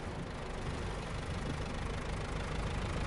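A truck engine idles in the off-road driving game Snowrunner, a steady rough low rumble heard alone at moderate level.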